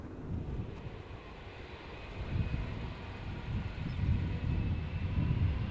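A distant SAS Airbus A319 taking off at Amsterdam Schiphol Airport, bound for Oslo, gives a low, faint jet roar that slowly swells and rumbles across a few seconds.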